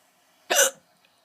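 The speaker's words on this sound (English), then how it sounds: "Sorry about the hiccups" A single short hiccup, sudden and fairly loud, in otherwise quiet surroundings.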